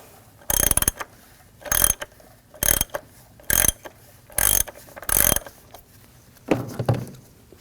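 A 24mm socket on a ratchet loosening the oil filter housing cap on a 2006-2009 Audi S4, six loud, evenly spaced bursts of rapid ratchet clicking, close up, then quieter handling at the end.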